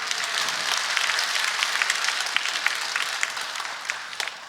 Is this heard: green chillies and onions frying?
no